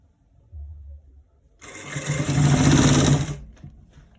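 A sewing machine stitching the side seam of a pair of trousers runs in a steady, close mechanical whir for about two seconds, after a brief low hum and a quiet pause.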